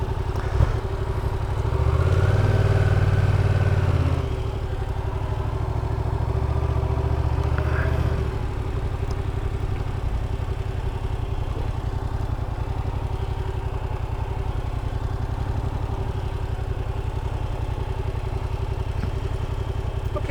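A motorcycle idles and moves at low speed through a U-turn and five-cone slalom in a licence skills test, its engine rising briefly near the start then settling into a steady low drone, moderately close with no talk.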